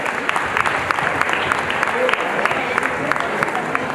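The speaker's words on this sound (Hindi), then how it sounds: "तालियों की गड़गड़ाहट से इन बच्चों का प्रोत्साहन करो।" Loud applause from the audience at a school annual function fills the hall, a dense continuous patter of clapping hands from a close crowd that holds steady throughout.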